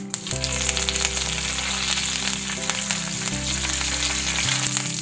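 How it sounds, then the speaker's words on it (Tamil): Mustard seeds and curry leaves sizzle steadily in hot oil for a tiffin sambar tempering, a loud continuous frying hiss with low hum throughout and no talk. "கடுகு பொரிஞ்சதும் கொஞ்சமா கருவேப்பிலை சேர்த்துருவோம்."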